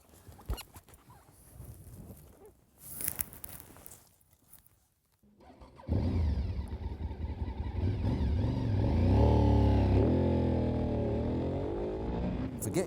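A Honda VTR SP1 (RC51) V-twin motorcycle, a 2000 model, revs loudly and close after scattered faint noises, its engine note rising and falling continuously over several seconds.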